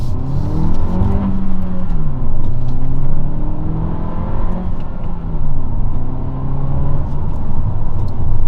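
A 2022 Honda Civic Hatchback with the 1.5-liter turbo engine drives along, a loud, steady cabin drone of engine and road rumble with the pitch rising and falling gently as the speed changes.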